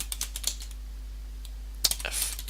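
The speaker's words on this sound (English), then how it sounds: "Let's go ahead and type in fdisk-l." Computer keyboard typing a terminal command, with short bursts of clicky keystrokes near the mic, a pause, then another quick cluster of keys over a low steady hum.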